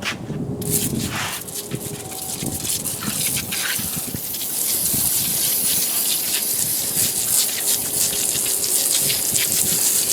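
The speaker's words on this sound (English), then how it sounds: "When you push this can, holy crap, it will shoot pretty far for you." O'Reilly foamy engine degreaser sprays from an aerosol can in a loud continuous hiss that runs without a break, at close range and growing slightly stronger toward the end.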